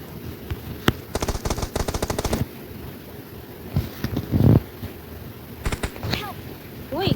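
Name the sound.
gunshots in the video game PUBG Mobile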